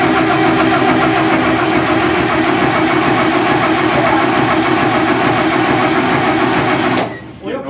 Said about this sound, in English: Crank it again about 10 times. Shake it, crank again.